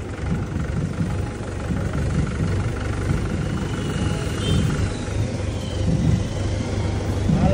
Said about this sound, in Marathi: चला आता अगोदर जाऊ आपल्या रूमवर ट्रॅक्टरची सवारी करत